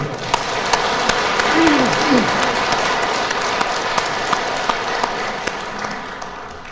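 A Catholic parish congregation at Guseong church claps together in a long, sustained round of applause, dense and steady with a few sharper individual claps, and brief vocal cries rising over it before it slowly tapers.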